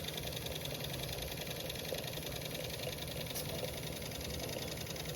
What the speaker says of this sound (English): the most silent running Jensen 20 I've ever had. There's absolutely no slop in this engine anywhere.